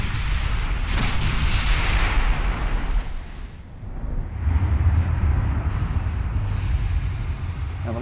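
Naval gunfire aimed at an Italian battleship in the Ultimate Admiral Dreadnoughts game, a loud sustained roar of heavy shelling and booming blasts with rumbling low impacts that keep going throughout, no voices.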